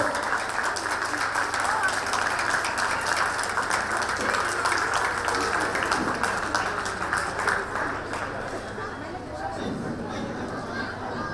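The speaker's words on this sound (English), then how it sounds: "Let us welcome him with a big round of applause" Audience at a pre-school annual day applauds a performer, a steady round of clapping with crowd chatter and some voices mixed in, holding for about eight seconds before thinning toward the end.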